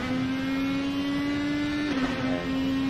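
Race car engine in a racing game at the Daytona road course, holding a steady high tone as it powers out of a corner, with a brief dip in pitch near the end before rising again.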